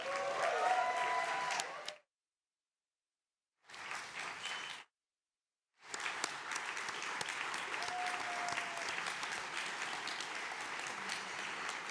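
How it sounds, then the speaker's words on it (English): An audience claps for Tova and Aaron, two grandchildren of Holocaust survivors, at an antisemitism remembrance award event. The applause is broken by two silent gaps, then returns as steady, moderately loud clapping. "Let's all give a round of applause to Tova and Aaron."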